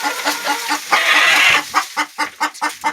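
Chickens in a run filled with leaves cluck in quick repeated pulses close up, with one longer, harsher squawk breaking in partway through.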